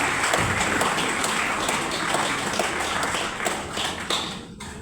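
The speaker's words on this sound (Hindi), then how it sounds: "जितनी ताली अपने लिए बजा सकें उतनी ताली बजाइएगा" An audience claps together at a Republic Day function at a college, a dense, even round of applause that carries on loudly and then thins out near the end, with no talk over it.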